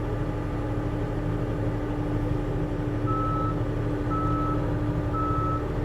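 A truck's reversing alarm beeps three times at steady intervals over a constant idling engine drone, close and fairly loud, while a 56-inch U.S. General toolbox from Harbor Freight is being unloaded.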